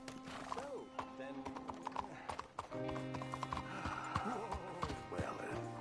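Horse hooves clip-clop steadily at a riding pace in the Red Dead Redemption 2 western game, close and clear, with a horse whinnying and music playing underneath.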